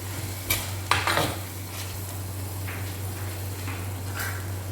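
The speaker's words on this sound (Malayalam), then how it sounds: "ഇച്ചിരി നേരം ഇതൊന്ന് മൂടി വയ്ക്കാം തുറന്ന് നോക്കി ഒന്നുകൂടെ വഴറ്റിയെടുക്കാം" Squid sautéing in a pan, with a few clinks and scrapes of a spoon or spatula against metal and soft stirring over a steady low hum and faint background sizzle.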